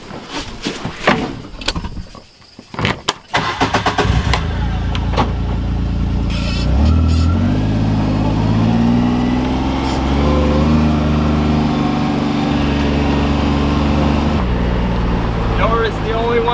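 A Mule utility vehicle on a farm starts with a few sharp knocks, then its engine settles into a steady, close rumble that rises as it drives off, with speech over the start.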